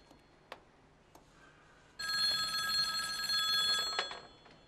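An old landline telephone bell rings in a home, a loud continuous metallic trill lasting about two seconds after a few faint knocks and taps.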